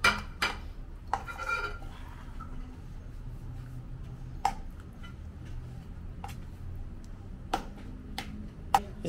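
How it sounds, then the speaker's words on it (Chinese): Eggless vegan banana cake batter is stirred in a bowl, with faint, irregular clinks and taps of the utensil against the bowl over quiet scraping. "这个搅拌的过程就不要太久，大概10分钟左右吧。"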